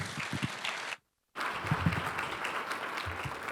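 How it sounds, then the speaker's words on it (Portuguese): Audience applause for panelists closing a telecom industry and agribusiness panel, a steady wash of clapping that breaks off briefly into silence, then resumes at the same level. "Peço uma salva de palmas aí aos nossos painelistas."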